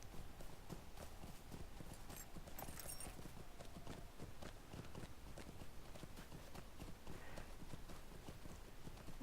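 Horse hooves clip-clop steadily along a path in a medieval video game, a continuous close rhythm of hoof strikes over nine seconds, loud and unbroken with no speech.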